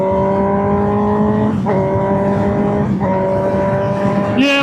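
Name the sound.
motorcycle engine on a ride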